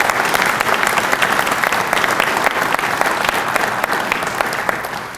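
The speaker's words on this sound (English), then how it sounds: "Let's give Dr. Johnson another round of applause." A large crowd applauding steadily at a building's grand opening ceremony, dense clapping that stays loud throughout before tapering slightly at the end.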